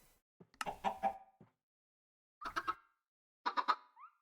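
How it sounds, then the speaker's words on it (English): Chickens cluck in bursts inside the Minecraft video game, with three separate groups of short clucks spread across the clip and quiet gaps between them. "Over here, my chickens."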